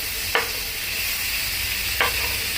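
Tomatoes sauté in a pan, a loud continuous sizzling hiss with two sharp utensil scrapes about a second and a half apart.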